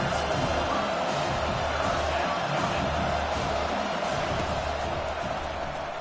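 A college football stadium crowd roars steadily behind the defense on a big third down, a dense sustained wall of cheering and shouting that holds loud throughout.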